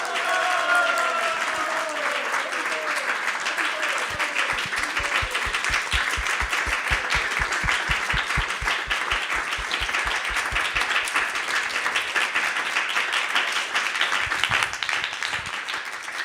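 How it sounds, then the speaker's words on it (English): A large audience at a presentation gives a long round of applause, dense and even throughout, with rhythmic group clapping in the middle stretch before it loosens into scattered clapping again. "So a big round of applause to all of them"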